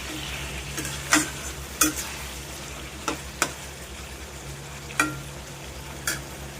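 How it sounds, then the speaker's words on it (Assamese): A spoon stirs food in a pot with about half a dozen sharp scraping clacks spaced a second or so apart, over a soft, steady background sizzle at moderate loudness. "এতিয়া অকণমান লৰাই দিম"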